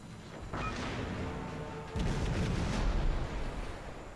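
Naval gunfire in the World of Warships video game, warship guns firing at a cruiser: two heavy booming salvos about a second apart, loud and rumbling, with no voices over them.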